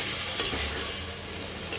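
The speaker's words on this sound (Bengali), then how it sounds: "মশলাটাকে সুন্দর করে ভাজা ভাজা করব।" Spice masala with turmeric and coriander powder frying together with vegetables in a pan, a loud close continuous sizzle with stirring, no speech.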